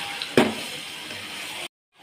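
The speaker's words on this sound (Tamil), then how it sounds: "கறி நல்லாவே போட்டு வதக்கியாச்சுங்க" Chicken sautés with ginger and garlic in a pan, giving a close, steady, hissing sizzle. One brief clatter comes near the start, and the sizzle cuts off abruptly before a short silence.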